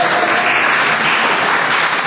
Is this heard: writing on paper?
no